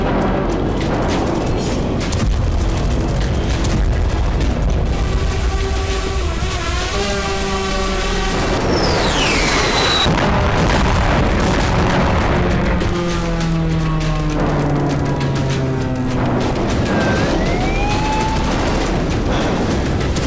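Drone strikes hit Russian weapons and oil depots, sending deep booms and bursts of blast noise through the scene, mixed with rising and falling whistling tones and a continuous rumbling, chaotic background.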